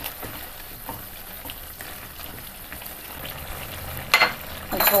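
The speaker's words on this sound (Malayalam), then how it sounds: "കറി നന്നായിട്ട് തിളച്ചിട്ടുണ്ട്." Beans masala curry bubbling in a pan, a soft steady sizzle and simmer throughout with a couple of louder clattering bursts near the end, no talk.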